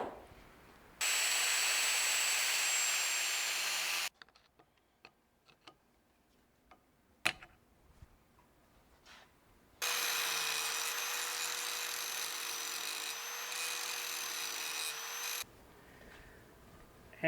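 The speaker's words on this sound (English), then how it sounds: "So we're going to have to grind into there," Angle grinder cutting into the steel of an LS truck intake, two long loud bursts of high whining grind separated by quiet pauses with faint light ticking and tapping.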